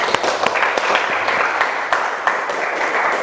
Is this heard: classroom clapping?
yes